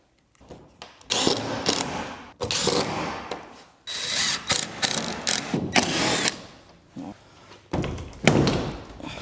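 A fastener is tightened during photo booth assembly, with bursts of rapid ratcheting clicks in uneven spurts broken by short pauses.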